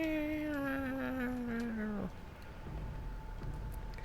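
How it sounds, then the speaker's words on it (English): A cat lets out one long, drawn-out meow that slides downward in pitch, close by, followed by quiet room noise. "I think I just heard the cat make a really long meow."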